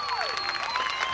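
Fans in the stands applauding and cheering at a 1997 high school football game between East Providence and Rogers High School in Rhode Island; steady dense clapping with a whistle-like tone sweeping through, heard from within the crowd.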